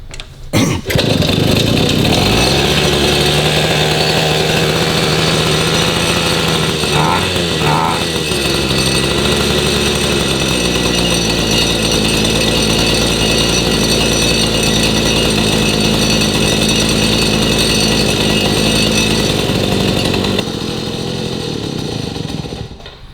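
A 1953 Itom Astor Sport two-stroke motorcycle engine kicks into life and settles into a loud, steady, buzzing idle close by, running continuously with a brief blip of revs early on.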